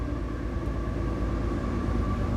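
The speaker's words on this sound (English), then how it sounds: "here comes a train" A train passes through Clyde along the Erie Canal, a continuous low rumble with a steady tonal hum, moderately loud and constant with no talk.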